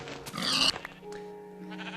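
A sheep in Minecraft lets out one short, close, wavering bleat, followed by quieter game ambience with faint tones.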